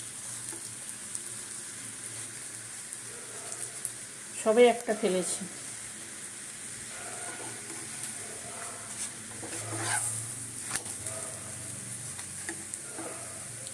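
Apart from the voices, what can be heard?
lachha paratha frying in a pan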